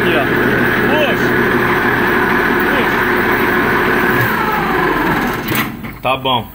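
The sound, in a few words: engine idling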